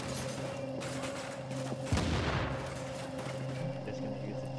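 Grenade blast in a video game, a single deep boom midway through a steady hum of game ambience and background fire, with voices faint underneath.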